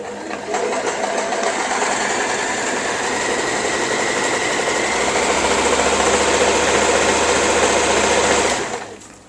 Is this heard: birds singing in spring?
no